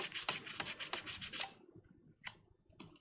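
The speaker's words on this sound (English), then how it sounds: "I got some sandpaper, that's good for that." Sandpaper rubbing by hand on a Death Trooper armor piece, a rapid run of about eight rasping strokes followed by a pause and two more separate strokes, close and fairly quiet.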